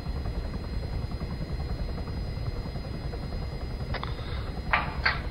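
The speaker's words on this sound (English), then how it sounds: "Yeah, just land the Chinook." A Chinook helicopter in a hostage-rescue video game drones with a steady low rotor thump and engine whine, with a few sharp high-pitched bursts near the end.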